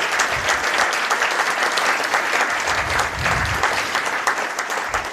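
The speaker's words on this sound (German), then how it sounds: "jetzt müsst ihr nochmal klatschen, damit die das im Podcast auch haben" Live audience in a hall applauding at a political podcast taping, loud continuous clapping from a large crowd that holds steady throughout and eases slightly at the close.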